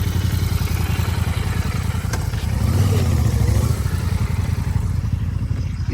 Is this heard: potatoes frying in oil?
no